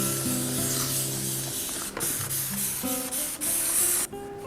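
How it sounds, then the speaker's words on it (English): Dawn Power Wash sprayed over a bike frame from a Trek 820, a continuous close hiss of pump-spray with small clicks and rattles of the trigger and can, no speech. "spray this whole frame down with Dawn Power Wash"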